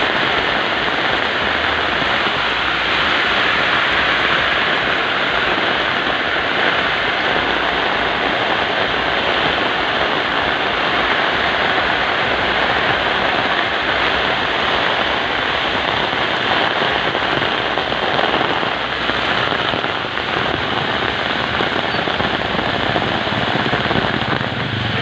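Heavy rain pouring down near a river in the Philippines, a loud, steady broadband roar of drops hitting surfaces that holds unbroken for the whole stretch with no voices.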